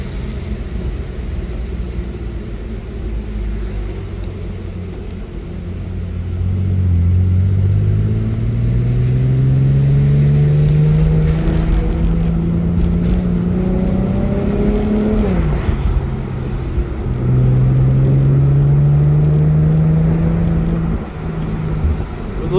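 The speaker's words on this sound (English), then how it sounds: "A little bit of night driving." An Infiniti G37x driving at night, its engine droning low and then rising through the gears in long climbing revs, with a drop at a shift and cabin road rumble underneath, close and steady.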